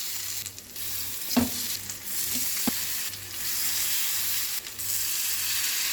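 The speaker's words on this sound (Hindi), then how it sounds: "तेल गरम हो गया है। अब इसमें हम तुरई डाल देंगे।" Ridge gourd dipped in slurry fries in hot oil with a steady, close bubbling hiss, a few sharper pops near the start, and no one talking.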